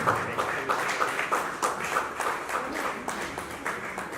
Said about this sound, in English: Let the clapping continue until he takes his seat.